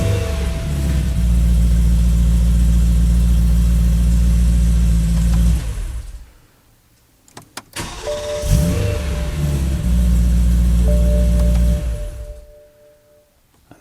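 BMW E92 M3 engine starting up and idling, loud and close, with a steady deep drone that cuts off, a few clicks, then a second start settling into idle before shutting down.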